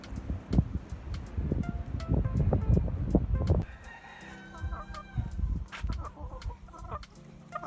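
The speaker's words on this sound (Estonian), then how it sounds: "Ma leidsin veel ühed 2 kana ja 2 kukke, kes on ahhaa omad." Hens and roosters cluck and crow nearby in a short, loud burst of overlapping calls, then quieter scattered clucks and rustling.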